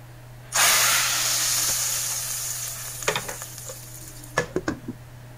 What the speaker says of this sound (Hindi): और यहाँ पर जी तड़का लगा लिया है मैंने।